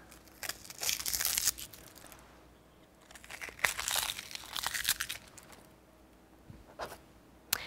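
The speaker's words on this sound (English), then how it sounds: "If it's got some extra skin, you can peel that off." Papery onion skin is peeled off in the kitchen with close, soft crinkling and tearing rustles. They come in a few bursts separated by quieter pauses.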